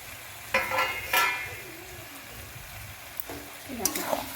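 Marinated chicken pieces dropped into a pan of spice paste for a wedding-style chicken curry sizzle and crackle up close, with bursts of frying as the meat is stirred and scraped about in the pan.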